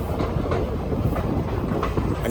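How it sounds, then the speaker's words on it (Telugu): Tungabhadra Express with ICF coaches rolls along at speed, a loud, continuous rumble with rhythmic clickety-clack of wheels over rail joints, heard from inside the train. "మన ట్రైన్ ICF కోచెస్తో రన్ అవుతుంది"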